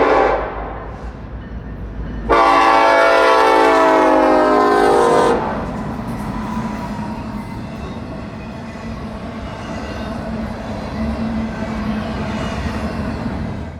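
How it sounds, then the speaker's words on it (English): A new ST-70 Ace diesel locomotive heading a freight train through signals and over a switch onto an industrial track: a loud horn blast for several seconds, then the steady rumble and rolling clatter of the train passing close by. "A brand new ST-70 Ace is head out on 21M, passing through the signals at Prescott and over the switch to the Avon industrial track"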